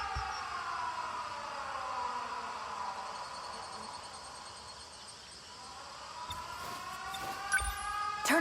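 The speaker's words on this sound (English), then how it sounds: "Air raid alarms have been sounded." An air raid siren from the video game 13 Sentinels: Aegis Rim wails with slow rising and falling tones, steady and fairly loud throughout, with a brief clatter near the end.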